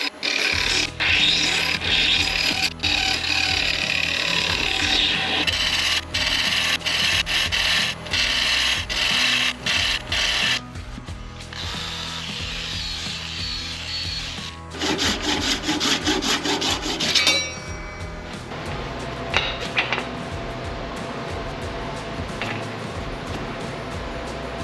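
A turned wooden box spins on a lathe while it is worked and sanded, giving a loud, continuous abrasive hiss over the motor's hum that shifts in tone partway through.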